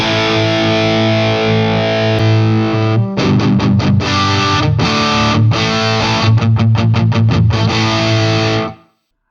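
Distorted electric guitar on the bridge humbucker, run through a preamp into a third-party Orange cabinet; a sustained chord rings alone, then choppy palm-muted chugs and stabs follow before it cuts off.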